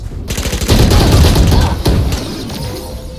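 Rapid gunfire and explosive bursts from a competitive team shooter video game fill the moment almost nonstop, loud and dense, with a sharp crack partway through and the barrage easing near the end.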